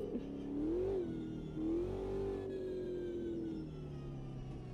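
A race car engine in the Automobilista 2 racing simulator revs up and down through gear changes, a steady close whine rising and falling twice before settling into a held drone.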